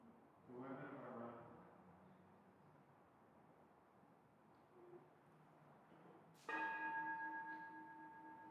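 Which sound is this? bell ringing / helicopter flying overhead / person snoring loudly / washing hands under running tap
bell ringing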